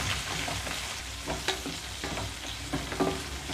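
Red chillies fry uncovered on a low flame, a soft continuous sizzle broken by scraping, clacking stirring strokes that come in irregular bursts, close by and with no one speaking.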